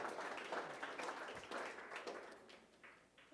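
Faint, distant applause from an audience at an event honoring the Jackie Robinson West Little League team. It sounds as a soft, even wash of many hands clapping throughout.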